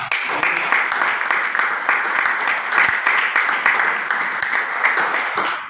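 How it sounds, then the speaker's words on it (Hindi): A crowd of audience members at a training session claps in a dense, continuous burst of applause, loud and sustained with no talking over it. "एक बार शानदार तालियां"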